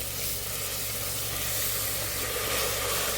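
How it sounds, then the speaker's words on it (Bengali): Garlic spice paste frying in oil in a pan, a dense, continuous close hiss of sizzling that holds steady throughout with no voices. "এবার এটাকেও একটু ফ্রাই করে নিতে হবে"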